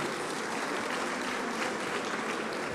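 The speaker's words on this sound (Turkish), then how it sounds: "Bu güzel armağan için kendilerini alkışlıyoruz," Applause from the audience at a CHP party group meeting in the Turkish parliament, a steady, dense wash of clapping filling the whole stretch at moderate level with no voices over it.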